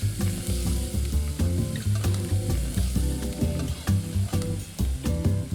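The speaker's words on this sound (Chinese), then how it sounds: "热锅起油，油要多一点，下洋葱爆香" Chopped onions hitting plenty of hot oil in a wok for a Northeastern Chinese egg and pork sauce, a loud steady sizzle broken by rhythmic clanks and scrapes of a spatula.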